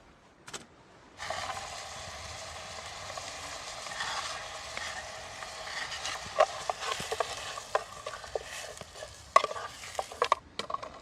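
Onions sizzling in avocado oil in a pan over a backpacking stove outdoors. A steady frying hiss starts after a moment and stays up, with clicks and scrapes from stirring growing busier toward the end.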